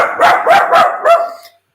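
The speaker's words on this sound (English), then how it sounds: "Excuse my dog barking. Someone's walking past." A dog barks four times in quick succession at someone walking past outside, loud and close, with the last bark trailing off and no talk over it.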